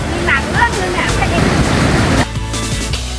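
Waterfall spilling beneath a bridge in an ancient city, a steady loud rushing roar of water heard up close, with faint voices in the background and the sound thinning slightly toward the end.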